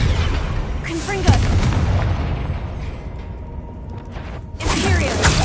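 Blasting curse spell explosion in the Hogwarts Legacy video game, heavy rumbling blasts with debris and mechanical clatter, a loud burst at the start and another near the end, with brief in-game voices.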